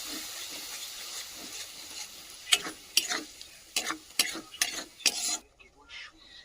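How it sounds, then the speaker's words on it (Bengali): Spice paste is stirred and fried with whisked sour yogurt for a curd catla fish curry, giving a soft steady sizzle with a series of scraping, clacking stirring strokes close by in the second half. "এখন আমি দিয়ে দেবো এই যে ফেটিয়ে রাখা টক দই।"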